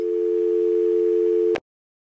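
A steady telephone dial tone hums in Arkham City, a continuous pure buzzing held for about a second and a half before cutting off abruptly into silence.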